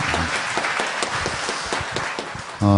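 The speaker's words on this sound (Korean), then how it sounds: "우리 예배를 받으신 하나님께 영광의 박수 올려드리겠습니다." Church congregation applauding together during a worship service, a dense, steady wash of many hands clapping that fades slightly before ending abruptly.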